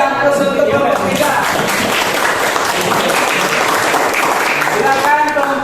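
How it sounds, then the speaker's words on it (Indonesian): Classroom applause for a student group after its presentation, a sustained patter of many hands clapping at once, loud and close, with voices talking over it. "kasih aplaus untuk kelompok 3."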